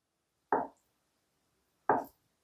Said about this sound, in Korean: 자, 홍고추 어슷 썰게요.